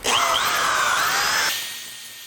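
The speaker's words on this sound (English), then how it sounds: "All right, so I've got my 60 grit here on my disc sander. Let's sand it off" A disc sander fitted with 60-grit paper grinds against a carved cherry wood sign, a loud whining rasp for about a second and a half before the motor spins down and fades.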